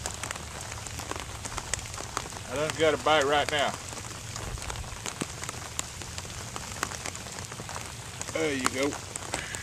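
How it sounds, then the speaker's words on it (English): Steady rain patters on nearby surfaces during an outdoor fishing session, a continuous close hiss with scattered drips, while someone talks briefly over it. "Seems like for me the fish bite better in the rain."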